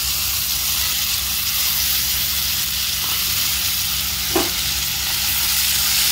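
Tomatoes and peas frying together in a pan, a steady close sizzle and hiss running throughout with a faint stir or clink near the middle.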